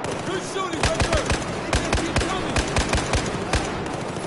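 Gunfire in Battlefield 4 on the Shanghai map: rapid bursts of loud, close automatic shots in an irregular rhythm, with a steady background din underneath.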